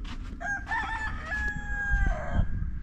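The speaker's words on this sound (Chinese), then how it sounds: "这公鸡就在围墙上哦" A rooster crows from atop a garden wall in Oman, one long clear cock-a-doodle-doo rising and holding near the listener, with a few soft clucks and low background rumble around it.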